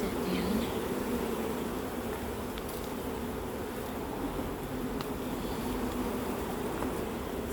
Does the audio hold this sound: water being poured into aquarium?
no